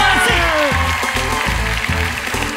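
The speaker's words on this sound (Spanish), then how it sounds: "¡Un fuerte aplauso para sí!" Audience applause on a Peruvian TV game show, clapping under a loud, pulsing music bed with a descending sound effect, the crowd noise filling the background.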